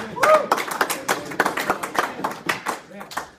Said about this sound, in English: Go ahead and clap for Sam.